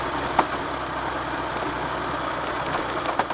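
A Triumph Trophy TR5 motorcycle on the move with a steady engine drone, loose front forks that are not damping adding occasional knocks and clatters over the road noise.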